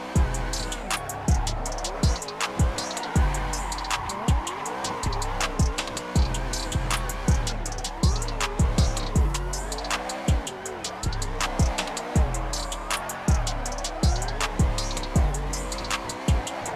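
BMW E92 drifting in the Assetto Corsa racing game: steady engine drone broken by repeated tire squeals and revving swells, with a pulsing, rhythmic pattern throughout, loud and close.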